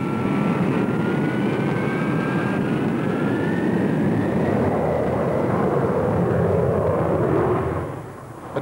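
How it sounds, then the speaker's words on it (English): An A-4 Skyhawk jet aircraft flies past with a loud, steady roaring rush and a faint rising whine, holding strong for several seconds before fading briefly at the end, with no speech. "test pilot Walt Smith flew the new model for the first time."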